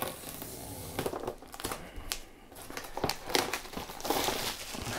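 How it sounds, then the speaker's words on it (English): Plastic wrap crinkles and tears close by as a thin boxed Warbringer Nemesis Titan model kit is unwrapped, in irregular bursts with brief pauses between. "Let's have a little unwrap."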